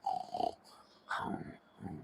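A voice imitates a dog growling in a few short, breathy rumbling snarls separated by brief pauses, close and fairly quiet.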